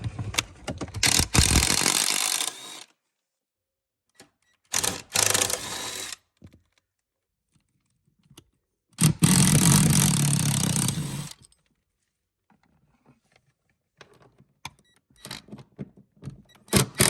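An impact gun rattles seat bolts out of a BF XR6 car interior, firing in three loud, close buzzing bursts of a couple of seconds each, separated by quiet pauses with faint handling noises.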